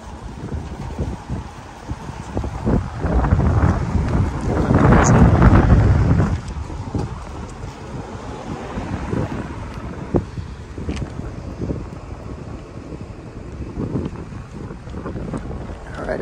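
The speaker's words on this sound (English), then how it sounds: "Might be a little bit too windy," Strong outdoor wind buffets the microphone in a continuous low rumbling roar, swelling loudest midway and easing to steady gusty noise, with no talking.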